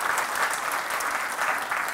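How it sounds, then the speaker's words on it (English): A conference audience breaks into a burst of dense, continuous applause that stays loud and even from start to finish. "Give everyone a round of applause for making the effort this one."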